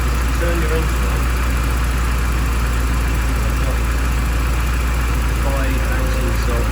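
A 1986 Porsche 944 engine idles with a steady low drone and constant vibration, close and loud throughout, with a faint voice underneath.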